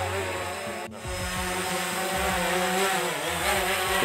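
A steady, loud propeller whine with shifting harmonic pitch as a drone hovers close overhead and slowly descends to land, with a brief dropout early on.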